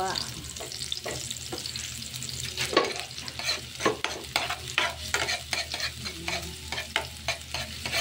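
Garlic and onion sizzle in a hot pan for adobong sitaw, with frequent stirring scrapes and clacks over the constant frying hiss, close by.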